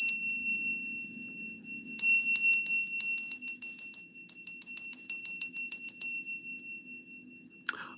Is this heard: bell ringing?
yes